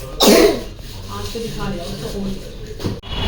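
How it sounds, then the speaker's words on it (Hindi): A boy gives a sharp, loud cough near the start, followed by quieter breathy sounds and faint talking in the background. "देखो खांस के दिखा रहा है।"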